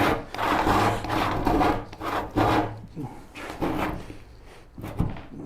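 Wood is hand sawn for a Shaker Enfield cupboard, with uneven rasping strokes in a halting rhythm of roughly eight pushes, close and moderately loud, some strokes catching and stopping short.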